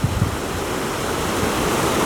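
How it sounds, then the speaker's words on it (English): Flood water from heavy rain pours over a small waterfall, down a concrete chute and into a large drain, a loud, steady rushing roar heard close up. "the water just is kind of going into a waterfall, and it goes down the chute and into that big drain right there"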